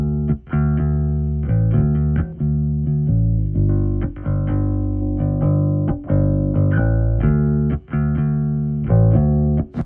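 An electric bass played through Waves mixing plugins with a midrange EQ boost gives a loud, clear run of plucked notes with sustained low tones and brief gaps between phrases, heard alone.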